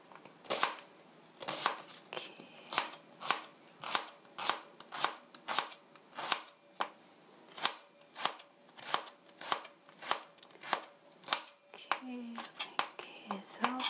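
A knife chopping on a cutting board while preparing a hamburger steak: about two dozen crisp, evenly spaced taps, close and fairly quiet, slowing and giving way to faint handling sounds near the end, with no speech.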